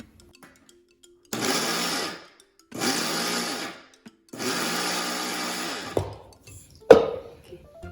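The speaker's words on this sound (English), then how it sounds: "I've transferred my besan mixture into this grinding container, and now I'm gonna pulse it for 3 times" A kitchen grinder pulses a besan mixture three times, each a loud whirring burst of about a second with short silent pauses between, followed by a few clunks of the container being handled.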